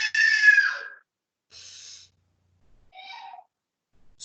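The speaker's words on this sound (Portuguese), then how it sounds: "Na inspiração em tempos, eu faço isso aqui, ó." A person demonstrates stepped inhalation, drawing breath in three separate short pulls with clear pauses between them, close and fairly loud, with no talking.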